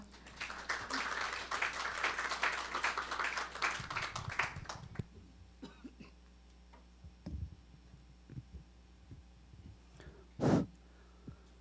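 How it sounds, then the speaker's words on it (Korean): An audience at an energy forum of the Korea Gas Corporation gives a speaker a hearty round of applause, loud and dense for about five seconds, then tapering off into scattered taps and small noises. "힘찬 박수로 환영해 주십시오"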